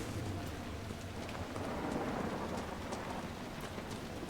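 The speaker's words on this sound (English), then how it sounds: "This is rainy, kind of like our last place" Steady, dense rain falls in a stormy coastal area of the video game Dragon Age Inquisition, a constant hissing downpour with a low rumbling undertone and no voices.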